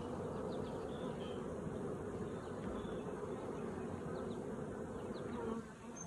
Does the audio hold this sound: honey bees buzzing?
yes